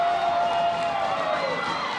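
A steady wash of crowd cheering fills the stands at a Little League softball game in St. Albans, Vermont, with a sustained roar of many voices and no distinct breaks.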